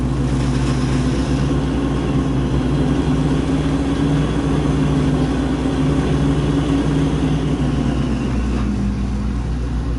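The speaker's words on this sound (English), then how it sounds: "Let's go do some craziness with this truck" A truck engine runs steadily before being driven into deep wet sand and mud, a low, continuous rumble with mild variations in pitch like idling and light revving, no talk.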